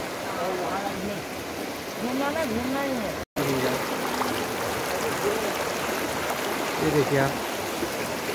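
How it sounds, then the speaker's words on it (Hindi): Rushing water of the Dapka river near Kotabagh in Nainital, a steady broadband flow heard outdoors throughout, with people talking over it. "देखिए ये है दापका नदी, यहाँ तो बहुत भारी मात्रा में आती है"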